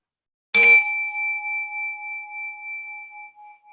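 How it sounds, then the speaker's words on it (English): A single yoga teacher's bell struck once at a kids' yoga class, a bright close ding that rings out and decays slowly over several seconds in otherwise quiet surroundings. "until you hear the sound of my bell"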